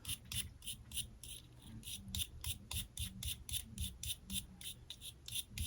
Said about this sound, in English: we're just gonna kind of rinse them in the water and hit them with a wire brush and see how they clean up